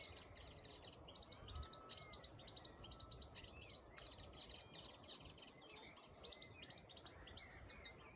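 Out in reeds by a country lane, a reed warbler keeps up a steady run of rapid, grating chirps and churrs, moderately distant, with faint background hiss and no voices.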